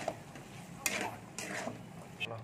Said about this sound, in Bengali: এটা একটু নেড়ে নিচ্ছি এর সাথে